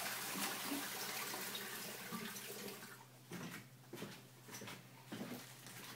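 Water draining from a batch of chilled blanched beans, a soft steady trickle and splash like a running sink, with a few brief clunks toward the end.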